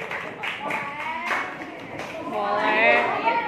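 Classroom applause for a student group during a math lesson: a short burst of clapping from several pupils, mixed with voices and chatter.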